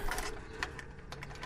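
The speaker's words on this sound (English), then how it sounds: "the sound of bars being pulled back" Faint metallic scraping and clacking, a series of short rattling clicks like a bolt or bar sliding, quiet and fairly close.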